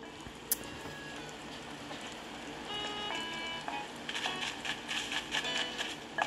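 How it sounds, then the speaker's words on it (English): Rain falls in the video game Animal Crossing New Horizons as a steady, soft, hissing patter. Light game chimes and tones sound on top, and the pattering grows a little busier toward the end. "It's like raining and wet out here."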